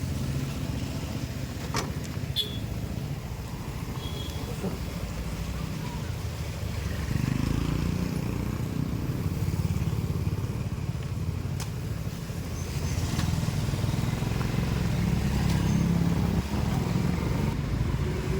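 A motorcycle on a ride in Darjeeling, its drive chain loose and noisy, gives a steady, close engine rumble that swells slightly midway and runs without a break.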